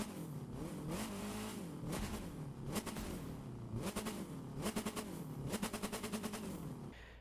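A Saleen S1 sports car engine in the video game The Crew 2 revs and drops repeatedly, with rapid crackling pops on the throttle lifts, loud and mechanical with no voices.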